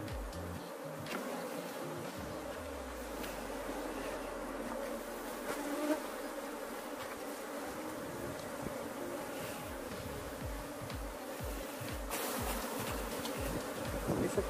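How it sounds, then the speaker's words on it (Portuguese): A honeybee colony buzzes inside an opened hive during a hive split, a dense, continuous, close humming drone that holds steady throughout. "Vamos ver aqui como é que tá o restante do enxame."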